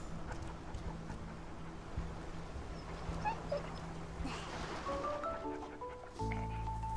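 Puppies whimper and yip in the Infinity Nikki video game, a soft, continuous dog sound over steady background music, with brief tonal chimes near the end.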